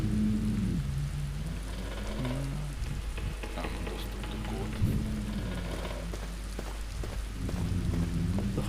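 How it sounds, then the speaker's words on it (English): Steady rain with gusting wind blowing in through a broken window in a derelict room, a constant hiss of drops under low rumbling wind, in the game Black Mirror. "The hole in the window lets cold wind and rain enter the room"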